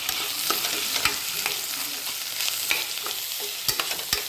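Rice stirred in hot oil in a pan over a high flame for ghee rice, a steady sizzle broken by sharp spoon knocks and scrapes against the metal at irregular intervals.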